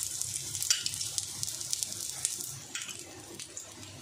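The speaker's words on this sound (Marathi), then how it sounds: "आपण खरपूस भाजून घेणार आहोत सगळ्या बाजूंनी" Chicken reshmi kabab pieces pan-roasting in oil over a low flame give off a steady, soft sizzle with scattered crackles and pops throughout, close and fairly quiet.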